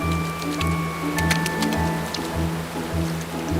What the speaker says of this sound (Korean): 은어들은 폭풍 같은 물보라 속으로 몸을 던집니다.